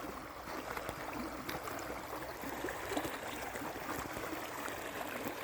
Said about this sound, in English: Here we are right at the river's edge.